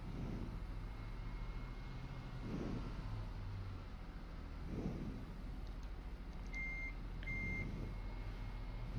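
A fire brigade pump-tanker truck backing up, its reversing alarm sounding in regular beeps about every two seconds over a steady idling engine rumble, with no voices.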